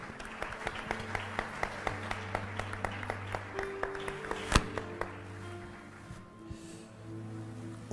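A church congregation claps in a steady rhythm at a worship service, close and moderately loud, with a sustained musical tone underneath and a sharp single knock near the middle before the clapping thins out.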